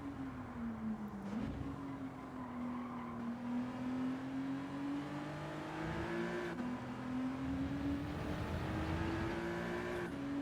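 Race car engine in a Gran Turismo 7 race, a loud continuous whine that rises and falls with the revs through gear changes and corners, close and unbroken, with no talk.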